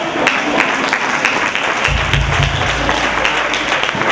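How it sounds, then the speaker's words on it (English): Audience applause at a breast cancer awareness event, a steady wash of clapping from a crowd lasting the whole stretch, fairly loud and close, with a low rumble joining partway through. "Clap it up."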